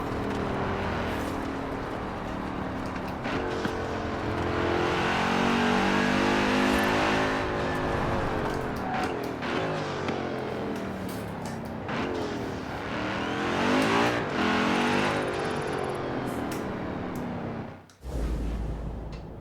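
An Audi RS6 drives in the video game Forza Horizon 4. The engine revs up and down with a loud, sustained tone and rising and falling pitch, then drops off sharply near the end.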